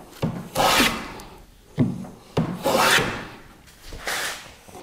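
Hand plane cutting a rebate in wood with hand tools, heard as four or five rasping strokes, each a loud scraping swish followed by a short pause, close and alone.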